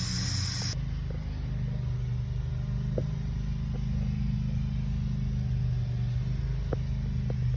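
Air hissing out of a punctured tire after a crash, a loud burst at the start and then a steady low rush and rumble that runs on for several seconds with small clicks.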